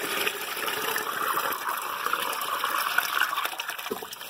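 Water runs from a hose or tap in a greenhouse after a hard freeze, a steady, moderate gushing flow with faint splashes, heard close and alone without voices.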